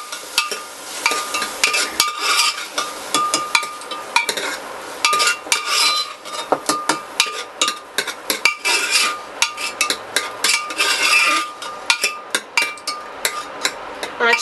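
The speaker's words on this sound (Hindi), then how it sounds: "टमाटर को हम थोड़ा फ्राई होने देंगे।" Tomatoes frying in a pan for a quick pressure-cooker sambhar, a steady hiss broken by many sharp clinks and taps of a utensil against the pan, fairly close and continuous with no voices.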